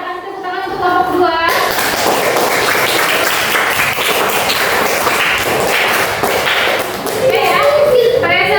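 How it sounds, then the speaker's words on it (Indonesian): A classroom of students claps for a presenting group, a dense burst of hand claps lasting several seconds, with a teacher's voice heard briefly before and after. "Kita kasih tepuk tangan untuk kelompok 2."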